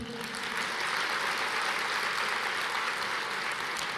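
Dense, steady applause from a large congregation at a church worship service, a continuous wash of clapping with no pauses.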